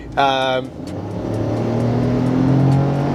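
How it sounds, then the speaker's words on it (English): A 2021 Ford Bronco Sport under full-throttle acceleration, engine droning and slowly rising in pitch after a brief tonal chime at the start, heard from inside the cabin. "Hopefully you can hear what's going on here, but that's basically pedal to the floor and we're hardly going up."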